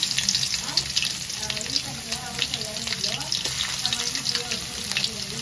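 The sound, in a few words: urad dal and garlic frying in oil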